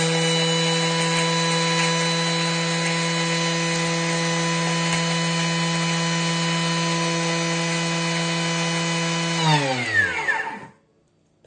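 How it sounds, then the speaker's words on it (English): A Thermomix at speed 10 grinds sugar, giving a loud, steady high motor whine with a rough grinding texture for about nine seconds, then winding down quickly to silence. "If we just grind the sugars down about 10 seconds, speed 10, they will dissolve a lot better."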